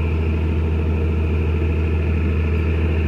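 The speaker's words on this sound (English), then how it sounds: "It's the tractor that's over there." A nearby tractor engine runs steadily, driving a pump that draws water from a canal for irrigation, a loud continuous low rumble with even throbbing and no pauses or talking.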